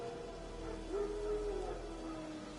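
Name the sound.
wild dogs howling in video game Witcher 3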